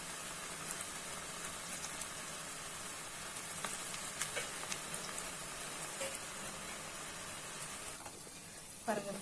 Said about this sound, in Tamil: எண்ணெய் நல்லா காஞ்சிருக்கு. ஸோ பக்கோடா போட ஆரம்பிப்போம்.